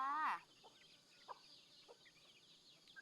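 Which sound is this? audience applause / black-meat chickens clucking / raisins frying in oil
black-meat chickens clucking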